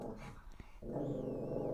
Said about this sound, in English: My dog is barking, so I apologize.